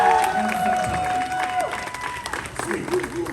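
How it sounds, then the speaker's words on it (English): An audience at an amusement park YouTube Q&A panel breaks into a steady round of applause and some cheering, sustained throughout with a voice sounding over the clapping. "One big round of applause for our panel right here."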